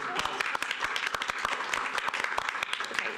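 An audience at a planning commission meeting breaks into a round of applause, dense overlapping claps at steady volume from a modest crowd in a hall.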